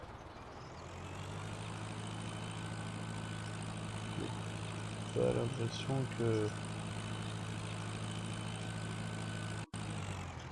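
A tractor in Farming Simulator 19 is driven off, giving a steady, low engine hum that runs throughout, while French speech and a few brief knocks sit over it.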